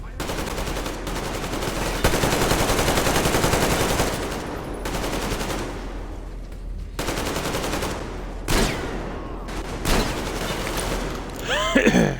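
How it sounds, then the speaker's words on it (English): A chain gun rattles off long, rapid bursts in a video game, loud and close, with short pauses between volleys and a few louder shots near the end. "Did they get access to a chain gun?"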